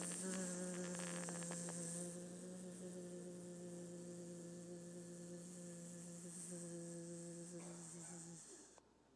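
A steady, low buzzing hum, like voices imitating bees, holds for several seconds before fading out near the end.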